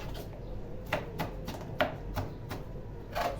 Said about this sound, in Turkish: Biraz daha böyle bıçakla inceliyorum onları